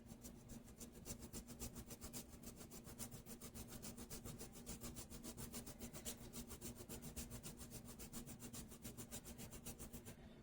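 Fresh ginger rubbed rapidly against a kitchen grater, a steady rhythmic rasping scrape repeating several times a second, close up and quiet, with no talking.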